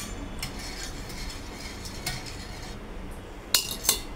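A spoon stirs buttermilk into rice flour in a bowl, with soft scraping and a few sharp clinks against the rim near the end, close and fairly quiet.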